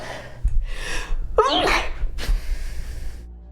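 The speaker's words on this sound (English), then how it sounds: "The thing about your sneezes is that they happen so fast." A single sharp sneeze bursts out near the mic, with quiet background noise and faint breathing around it.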